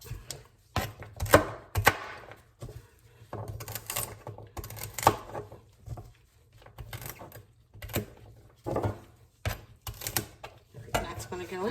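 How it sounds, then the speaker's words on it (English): A knife chops celery stalks into big rough pieces on a cutting board, irregular sharp knocks in small bursts with pauses between, close and fairly quiet. "I'm just cutting everything in really big pieces"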